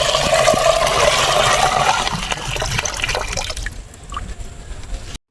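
Water splashes and gushes loudly as it is poured from a bucket onto plants in a village garden, the flow tapering into trickles and drips.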